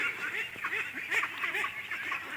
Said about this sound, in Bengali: ওই জায়গায় কিছু হাঁস দেখা যাচ্ছে।